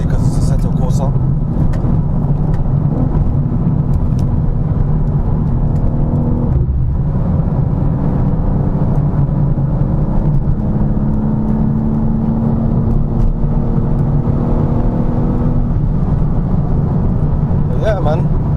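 A BMW M4 Competition G82 engine in the Assetto Corsa driving game hums at a low, steady drone with light revving, while someone talks over it throughout.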